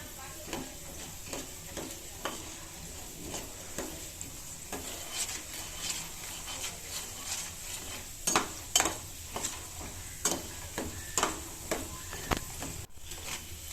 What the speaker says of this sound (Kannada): ಕಡಲೆ ಬೀಜ, ಉದ್ದಿನಬೇಳೆ, ಕಡಲೆಬೇಳೆ ಇದನ್ನು ಚೆನ್ನಾಗಿ ಫ್ರೈ ಮಾಡಬೇಕು,